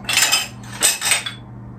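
Breakfast dishes and cutlery clatter loudly and close up in a home kitchen as they are put away, in two short bursts of clinking metal and ceramic.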